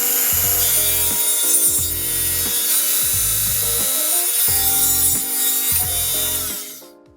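A table saw with a jig cuts wood in several repeated passes, each a loud buzzing rasp of the blade through the board, with brief gaps between strokes before the machine spins down.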